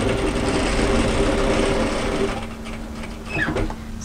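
A sewing machine stitches a 1 cm seam along the fused edge of a crop tailored knit military jacket, running steadily and close before slowing and stopping, followed by quieter handling of the fabric.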